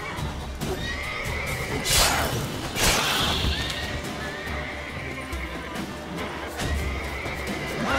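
Horse in The Witcher 3 video game neighing and whinnying loudly several times, with hoof clip-clops and game ambience around it.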